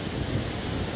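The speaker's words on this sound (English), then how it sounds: "So in both sides we have a kind of waterfalls here." A waterfall near Kathmandu pours with a steady, broadband rushing roar, continuous and fairly close, with no voices over it.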